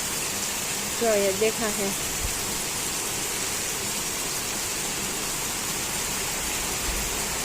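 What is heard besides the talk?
heavy rain with wind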